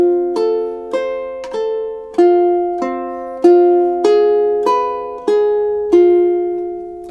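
Ukulele plucking a slow melody from Ave Maria, measures 5 and 6, about a dozen clear picked notes ringing and overlapping in a gentle, even rhythm, close and solo.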